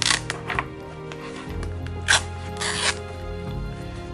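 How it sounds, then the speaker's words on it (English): A zipper on a Chanel wallet is pulled open in a few quick rasping strokes, with soft handling and rustling noises between them. "You can hear from the sound, the zipper"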